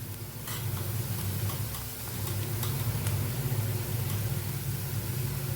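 Green chilies and garlic sauté in oil in a pan, giving a steady, close frying sizzle with faint crackles throughout and no talking.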